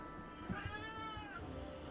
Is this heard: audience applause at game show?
no